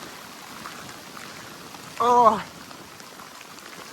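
Steady rain falls along the Appalachian Trail in Virginia, a soft, even hiss of drops continuing throughout, broken midway by a short vocal exclamation.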